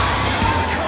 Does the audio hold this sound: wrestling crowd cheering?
yes